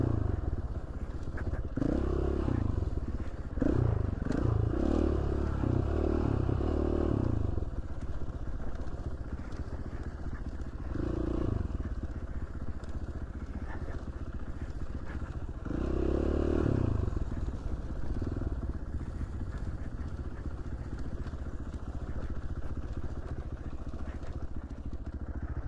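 A dirt motorcycle climbs a rocky trail in Idaho, its engine droning steadily and loudly up close with rising surges and clattering over stones.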